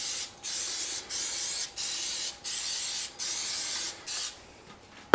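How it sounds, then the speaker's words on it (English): Cooking spray is sprayed onto a muffin pan in a home kitchen, several evenly paced hissing bursts of about half a second, each separated by short pauses, loud and close, ending with a clunk. "Give this guy a spray."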